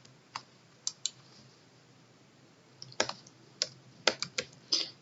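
Fingers type on a computer keyboard while field names are entered into a database table, producing sparse, crisp key clicks: a few isolated taps, then a quicker irregular burst of close keystrokes over quiet background.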